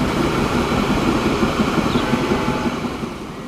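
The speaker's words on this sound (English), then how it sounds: "There it is, the other train." A train in the Transport Fever 2 video game rumbles steadily and loudly, a dense rolling rail noise with faint clatter that eases off slightly toward the end.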